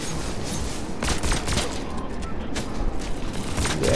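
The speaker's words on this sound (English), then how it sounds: "Where the hell am I getting shot?" Rapid bursts of video game gunfire crackle and thud almost continuously across a battle royale match, loud and dense, with a few heavier hits and no voice over them.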